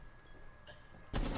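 Gunfire in Rainbow Six Siege: a sudden loud burst of shots erupts near the end after quieter game ambience, harsh and close.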